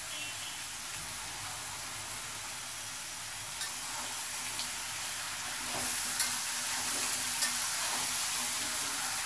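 Food fries in a pan with turmeric and salt, giving a constant bright sizzle with occasional soft stirring clicks and a slight swell toward the end.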